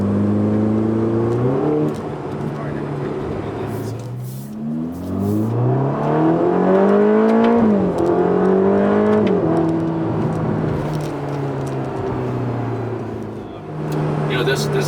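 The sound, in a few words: Ferrari Roma sports car accelerating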